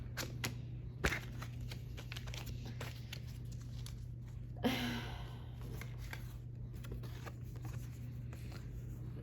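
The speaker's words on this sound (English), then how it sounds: "So we're going to do a little bit more shuffling." Soft papery riffling and flicks of tarot cards being shuffled, with a couple of sharper snaps, quiet and close over a low steady hum.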